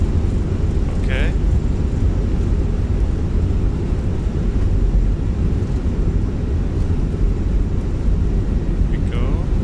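Jet engines of a Lufthansa airliner lined up on runway 24 right at Berlin, a steady low roar that fills the whole stretch, with brief radio-like chirps above it.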